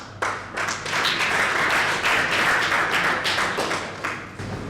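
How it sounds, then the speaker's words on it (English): An audience at a social business challenge event claps in a dense, sustained round of applause that swells quickly after a brief start and tapers slightly toward the end, fairly close and alone. "But give yourself a big applause,"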